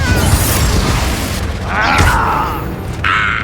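The Confringo fire spell in Hogwarts Legacy bursts in loud, crackling explosive blasts over constant combat noise, with two brighter flares about a second apart.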